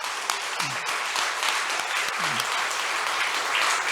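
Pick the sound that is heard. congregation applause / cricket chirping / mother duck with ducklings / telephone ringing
congregation applause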